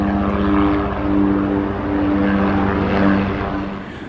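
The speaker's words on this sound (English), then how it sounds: "Here comes the helicopter again." A helicopter passes overhead near a coastal cove viewpoint, its rotor and engine droning loud and steady with a throbbing hum, no voices.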